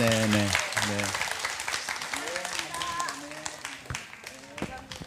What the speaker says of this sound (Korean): 여러분 큰 박수 부탁드리겠습니다